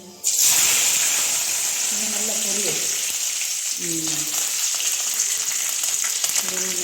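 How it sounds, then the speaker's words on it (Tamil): Oil sizzling loudly and steadily in a pan as ingredients are sautéed until golden for homemade tomato pickle, a continuous close frying hiss with brief low tones beneath. "பொன்னிறமாக வதக்கவும்"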